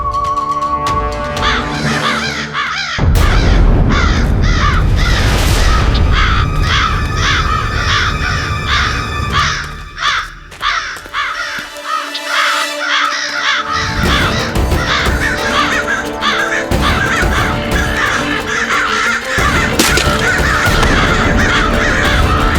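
A flock of crows caws loudly and continuously during an attack, harsh overlapping calls filling the whole stretch with only brief dips.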